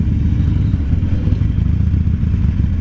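Several motorcycles rumble past at a charity cruise, a loud, continuous low engine drone with clattering mechanical texture and no talk.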